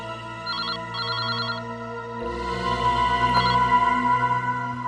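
An indoor telephone rings in repeated electronic bursts over a steady background hum, with the tone continuing into a longer ringing stretch.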